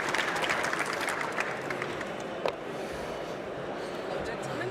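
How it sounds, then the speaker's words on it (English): An audience at a private sector forum on tourism, travel and entertainment applauds panelists, fading clapping that thins out into room murmur as voices begin chatting. "Please, a big round of applause to my esteemed panelists."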